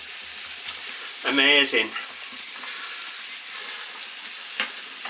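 Mushrooms with tomato puree, tomato paste and butter sizzle in the juices left from pan-searing a sirloin steak, a constant close crackle and hiss; a voice speaks a single brief word partway through.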